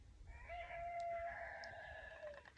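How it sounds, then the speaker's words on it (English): A rooster crows once, a long drawn-out call rising and trailing off, heard at a moderate distance over a quiet low rumble. "And there's the rooster."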